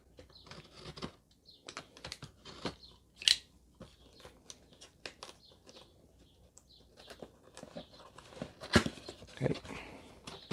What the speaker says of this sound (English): I'll open this now. So still sealed with the tape.